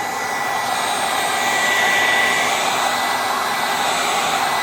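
A heat gun blows hot air steadily onto a pipe in a workshop, a loud, even fan roar and hiss that holds unchanged from start to finish without voices.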